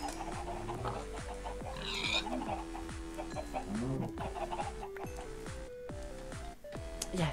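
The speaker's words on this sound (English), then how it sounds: "this guy, he's killing chickens and they keep spawning random shit." Chickens in the Minecraft video game cluck and squawk repeatedly as they are killed, a dense rhythmic run of short game-sound clucks with hurt squeals and hits over a continuous background, close and fairly loud.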